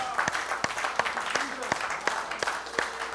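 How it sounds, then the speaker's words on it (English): A church congregation claps during a Sunday service, the hand claps landing in a loose, roughly rhythmic beat amid general crowd noise and faint voices. "Let's give him a big hand clap this morning"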